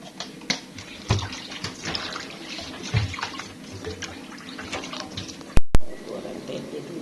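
Tap water runs and splashes while pots are washed at a home sink, with clatters and knocks of cookware, a couple of sharp loud bangs near the end, and faint background noise.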